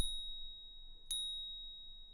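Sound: bell sound with delayed pitch-shifted copy in Max/MSP

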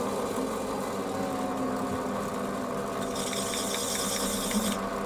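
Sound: chamfering an edge on a Warco WM180 lathe

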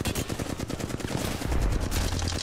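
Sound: gunfire in the video game Apex Legends

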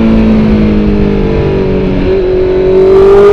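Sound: Honda CB650R 2019 motorcycle engine revving

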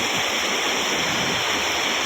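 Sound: flooded river water rushing

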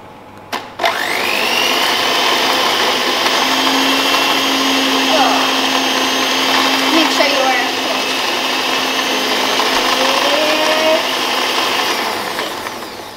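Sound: electric whisk beating cake batter

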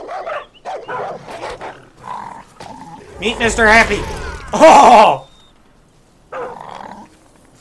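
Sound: wild dog barking and growling in video game Far Cry New Dawn

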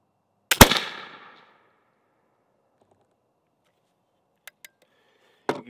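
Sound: gunshot from a .32 caliber flintlock, 10 grain charge

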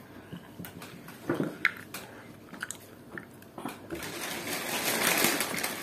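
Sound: chewing a chewy Malaysian sweet

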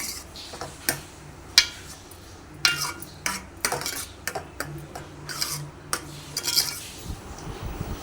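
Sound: stirring fried cashews, raisins and almonds into prasadam

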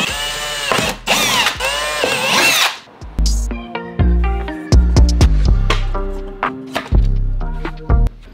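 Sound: Dremel rotary tool cutting out section in Toyota Supra

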